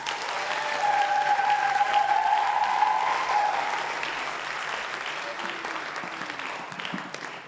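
Audience at a poetry event at the Bradford Literature Festival applauds a returning poet, with a dense, steady wash of clapping that holds strong and then slowly thins toward the end.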